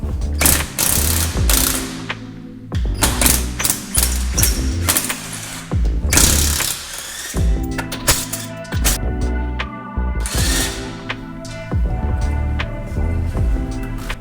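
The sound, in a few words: ratchet loosening lug nuts to remove Subaru Forester front wheels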